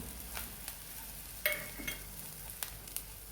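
Garlic and grated coconut sautéing with onion in a pan while cooking kurdai bhaji, a quiet steady sizzle with a few soft stirring scrapes and clicks, no voices.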